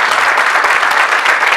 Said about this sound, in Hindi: आपने मेरे लिए तालियां बजाई